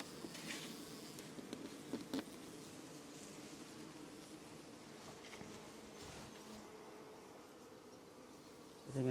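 Honeybees buzz around a hive just released after the hives were moved, a constant droning hum with a few louder passes close by and some light rustling.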